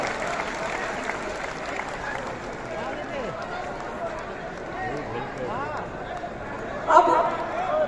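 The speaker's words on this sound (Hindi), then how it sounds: "तालियां बजती रहनी चाहिए," Steady audience applause filling a large auditorium at a political welcome event in Patna, continuous and moderately loud with a crowd murmur underneath and a voice speaking over it.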